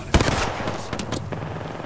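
Short bursts of video game gunfire aimed at enemies: a loud sharp shot near the start, followed by a few quicker cracks and rattling fire, close and fairly loud, with no talking.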